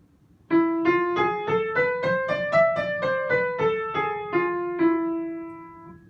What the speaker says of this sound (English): To make this scale Phrygian major,